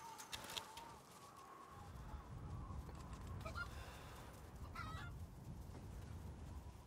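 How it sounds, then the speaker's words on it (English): Chickens cluck and a rooster gives short calls in the video game Resident Evil Village on PlayStation 5, faint and a little distant over low rumbling ambience. "Look at all these chickens."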